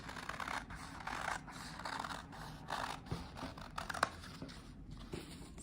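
Scissors snip through a square of fabric in a series of close, crisp cuts with soft rustling and handling of the cloth between them, in a mending and textile craft setting.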